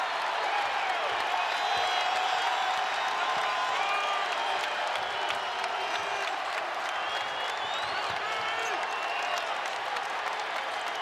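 A home crowd at a Louisville men's basketball game against Clemson roars and applauds loudly and continuously, with whoops rising above a dense wall of cheering.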